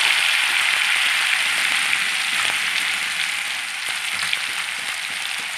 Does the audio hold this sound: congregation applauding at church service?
no